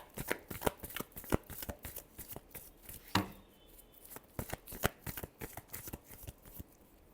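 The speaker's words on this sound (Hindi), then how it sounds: "Last shuffle." Tarot cards shuffled by hand in a steady run of crisp riffling flicks and slaps, close and fairly loud, with a sharper snap near the middle and no voices.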